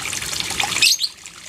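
Water from a pump-fed pipe spills into a small, low-cost homemade artificial waterfall, giving a close, steady trickling splash with no voices over it.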